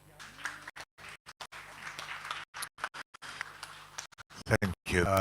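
Applause from a conference audience after a panel discussion, scattered claps and patter that come and go in bursts, with a voice speaking toward the end.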